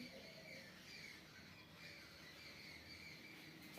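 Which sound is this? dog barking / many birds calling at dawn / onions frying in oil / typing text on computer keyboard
many birds calling at dawn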